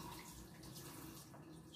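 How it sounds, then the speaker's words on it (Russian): Tap water runs from a faucet over orchid pots, making a steady, close splashing stream that continues evenly and quietly with no talking. "Поливаю я орхидеи над краном. Над краном ставлю, и вода течет прямо"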